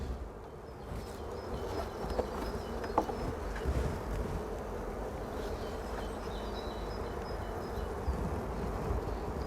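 A dense, continuous buzz of many honeybees close around an opened hive during an inspection, a steady droning swarm with no voices.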